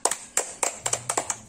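Hand clapping in a children's counting game, a handful of sharp claps in uneven small clusters, close and crisp, with a faint low voice-like hum in the background.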